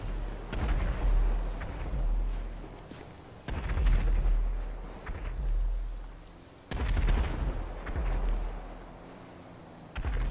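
Fireworks going off in GTA 5 roleplay: three heavy bursts of booming explosions a few seconds apart, each trailing into crackling rumble, loud and close with no talking.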